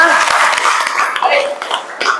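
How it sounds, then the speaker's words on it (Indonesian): Students in a high school classroom applaud together, a dense wash of clapping mixed with children's voices and some laughter. "berikan tepuk tangan untuk kita semuanya"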